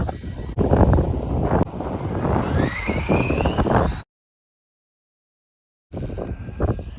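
An RC car on a LiperiAir 4S LiPo battery runs at full throttle, a loud, close, rising high-pitched motor whine with wind buffeting, cut by a sudden two-second silence before the sound resumes.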